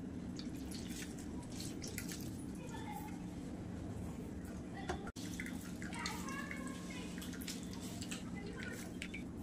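Cooking water drained off boiled radish in a village-style kitchen, heard as faint drips and a light splashing trickle against a low background hum.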